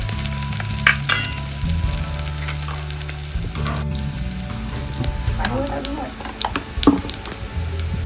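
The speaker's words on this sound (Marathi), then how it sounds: "आणि राई थोडीशी फोडणी घालून घेऊया" Mustard seeds, curry leaves and onion sizzle and pop in hot oil, a steady loud frying hiss with scattered crackles and a faint voice underneath.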